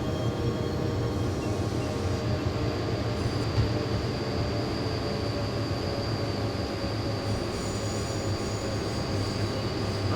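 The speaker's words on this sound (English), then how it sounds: "There's a passenger train noise." A video-game passenger train, a ČD Series 163 locomotive, rumbles steadily with a continuous low drone, faint wheel squeal and a high whine, close and loud throughout.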